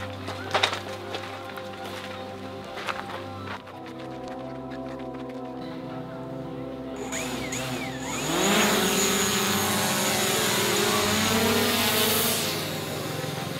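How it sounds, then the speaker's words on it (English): A DJI Mavic Pro drone spins up and takes off at a refugee camp, a rising high-pitched whine from its propellers that grows louder and steady after some faint clicks and handling noise. "we're gonna give the drone a new try"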